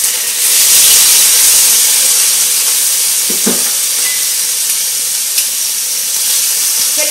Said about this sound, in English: And then I'm going to add my shrimp.